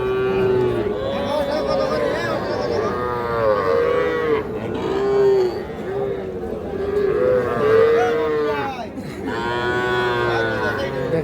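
Young calves low repeatedly at the Ambari cattle market, with several loud, close moos overlapping one another in quick succession. Crowd chatter murmurs faintly beneath them.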